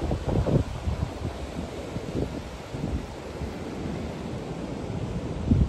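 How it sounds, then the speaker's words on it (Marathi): Rough, churning sea on a beach shoreline with steady wind, a continuous broadband roar of surf and gusts with heavier low rumbles near the start and end, no talking. "समुद्र बघा कसं खवललाय."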